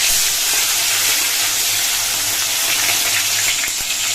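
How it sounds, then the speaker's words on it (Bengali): Fish fries in hot oil in a wok, making a loud, close, unbroken hiss and sizzle with no voices. "এবারে মাছ ভাজার পালা"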